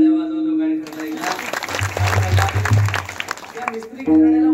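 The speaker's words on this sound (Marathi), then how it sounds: "टाळ्या वाजव दोघांनी करता एकदा." A kirtan audience breaks into a burst of clapping for about two seconds, set between sustained harmonium-like tones and mixed with voices.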